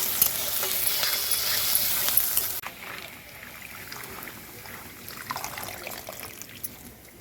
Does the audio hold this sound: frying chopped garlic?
yes